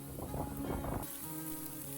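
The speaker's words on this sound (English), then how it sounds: "Day after day of rain at the moment." Rain in rural Japan patters steadily, heavier and denser at first before thinning to a softer continuous hiss.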